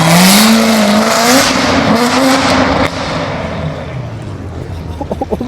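A loud Corvette roars past on a London street while supercars are being spotted, its engine note sweeping down as it passes and fading into the traffic background.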